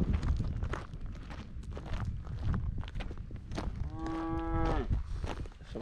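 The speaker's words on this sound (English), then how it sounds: "Some happy Scottish cows." Highland cattle on a farm on the Scottish island of Islay, with one cow letting out a long, close, resonant moo near the end, while hooves shuffle and thud in rhythmic steps throughout.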